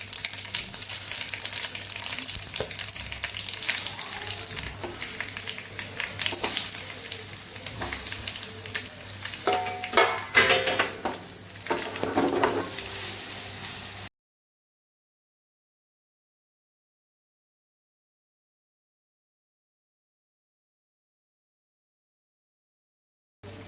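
Oil sizzling steadily as curry leaves and asafoetida fry, with a few crackles and spatula clinks, then the sound stops and long silence follows.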